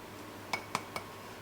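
Three quick, faint clinks ring out from a utensil knocking a bowl as peach crumble filling with cinnamon and cornstarch is stirred, over a quiet background.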